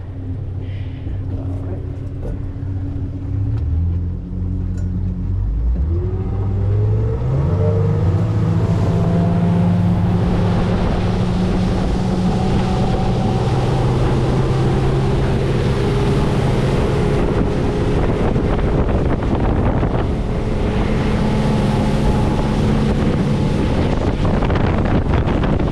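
2017 Key West 239FS center console boat getting underway, its outboard rising from idle through accelerating revs into a loud steady drone, with wind buffeting the microphone and water rushing past at speed.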